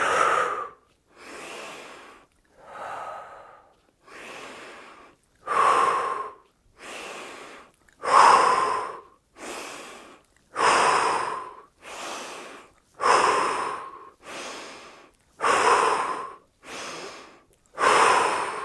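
Steady, audible breathing during a yoga practice session, about a dozen rhythmic inhales and exhales, each a second or so long, close and clear with no talking between them.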